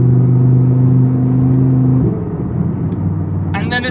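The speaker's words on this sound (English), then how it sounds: "Definitely the loudest car on the road this morning." An Audi R8 sports car engine drones loudly with a strong steady tone, then drops and settles into a lower rumble as it eases off, with a voice briefly heard near the end.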